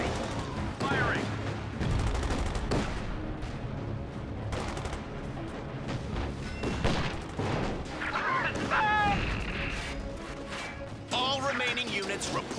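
Gunfire and artillery blasts from the video game Company of Heroes 2, a near-continuous run of loud shots and booming impacts across the whole stretch, with game voices talking over the combat.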